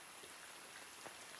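Steady rain falling on a home kitchen garden with jackfruit trees, a soft continuous patter with a few slightly louder drops, no voices.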